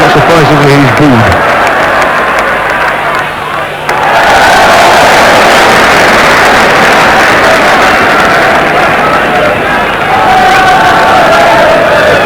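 A football crowd at a 1982 Sheffield Wednesday versus Grimsby Town match boos a player as he is substituted. The loud, continuous crowd roar fills the stadium, rising and swelling, with voices mixed in.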